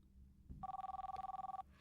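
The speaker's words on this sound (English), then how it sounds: "the sound of a telephone ringing from somewhere below woke Rosie up" A telephone rings from somewhere below in a quiet house at night, a single burst of rapid trilling bell pulses lasting about a second, fairly faint and alone.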